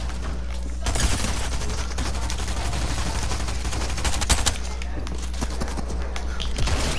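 Rapid bursts of gunfire in the video game Fortnite, continuous crackling shots over a low steady hum and soft game noise, fairly loud throughout, with little talk.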